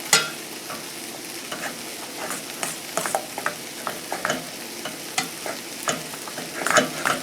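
Drained ramen noodles and Spam are stirred with a beef seasoning packet in a hot pan, a soft frying hiss under frequent close scrapes and taps of the utensil, busier toward the end.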